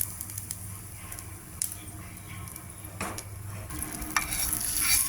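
Urad dal, mustard seeds and chopped chili tempering in hot oil for cucumber chutney, a constant close crackling sizzle with occasional scraping stirs and a few sharper pops, no voices.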